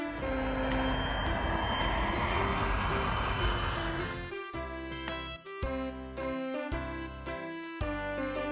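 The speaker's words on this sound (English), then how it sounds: "Aeroplane." An aeroplane engine roars loudly and steadily for several seconds, then gives way to a bouncy musical jingle.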